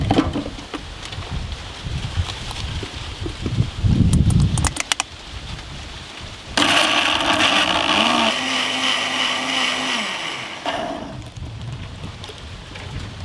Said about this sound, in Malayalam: കുറച്ച് പച്ചമുളക്, വെളുത്തുള്ളി, ഇഞ്ചി, മല്ലിയില, ഉള്ളി, ഒരു തക്കാളി ഇത് നമുക്ക് അടിച്ചെടുക്കാം.